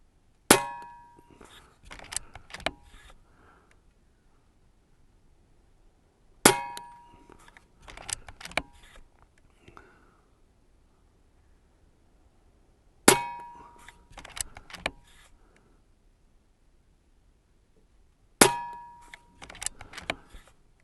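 Umarex Origin airgun shots at a target, four sharp metallic cracks spaced several seconds apart, each followed by faint clinks and handling noise, in a quiet setting.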